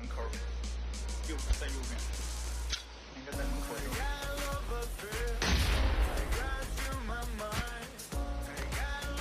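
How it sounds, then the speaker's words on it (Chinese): A barrage of grenade explosions in a multiplayer shooter video game, with dense bursts of booms and gunfire peaking midway, while a commentator talks excitedly over the action. "接下来就是一波手雷轰炸。"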